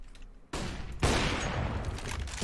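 Gunfire in Counter-Strike, two sudden loud bursts of shots followed by a sustained roar of rapid fire, close and dense, no voices.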